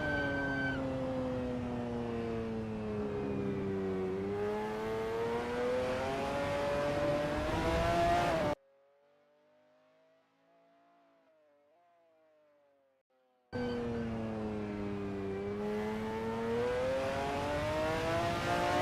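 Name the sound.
McLaren F1 GTR race car driving through a turn at Daytona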